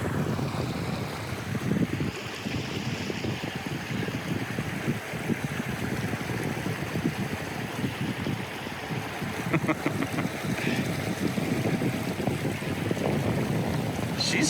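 An NK300 electric kayak motor pushes a Pro Angler fishing kayak across open water, a steady low churning hum blended with water rush and gusty wind buffeting the microphone throughout.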